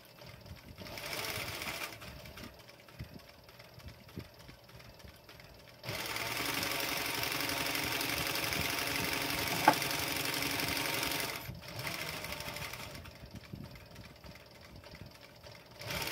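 A sewing machine stitches leather in a quiet workshop, its motor whirring in short bursts and then a longer steady run of rapid stitching before slowing and stopping.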